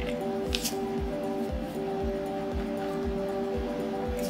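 A paintbrush swished and squished in a water cup between acrylic colors, soft wet dabbing strokes repeating in a quick regular rhythm, close and fairly quiet, with a couple of small drips near the start.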